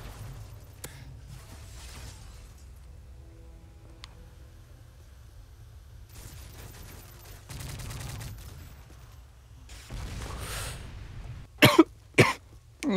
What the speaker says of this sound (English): This is the first time I've coughed, though.